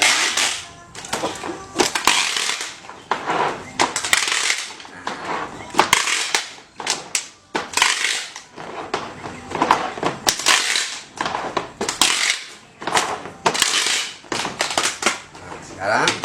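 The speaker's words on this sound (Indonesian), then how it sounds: "Kita lakban kembali." Packing tape is pulled and pressed over used plastic bottles being built into a chair and table, with repeated loud, sharp ripping and crackling bursts close up, and a voice speaking between them.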